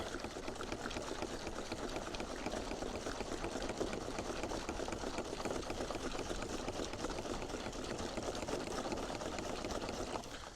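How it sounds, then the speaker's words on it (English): A FlowZone battery knapsack sprayer pump runs steadily and close by in a garden, giving a continuous mechanical whir with a fine rapid pulsing that holds level for about ten seconds before easing off at the very end. "So backpack sprayer's on and primed."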